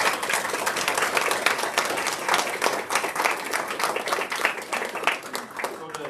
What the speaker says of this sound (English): let's give all these kiddos a round of applause